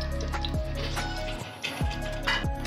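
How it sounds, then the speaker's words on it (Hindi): Water is poured into a pot to make sugar syrup for sweet carrot zarda rice, giving a steady close splashing and gurgling with a few drips and clinks, and no talking. "अब हम इसके अंदर पानी डाल रहे हैं चाशनी बनाने के लिए।"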